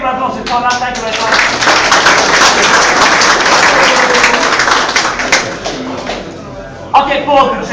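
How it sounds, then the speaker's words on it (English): Audience applause fills a snooker exhibition hall, a dense sustained clapping from a crowd that runs nearly the whole time, with a voice speaking at the start and again near the end. "Connor, big round of applause for Connor."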